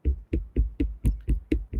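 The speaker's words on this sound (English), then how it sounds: "see, when I'm tapping on the mic stand," Eight evenly spaced hollow thumps, close and fairly loud, from tapping a microphone stand holding a Rode NT-USB Mini, with brief pauses between knocks.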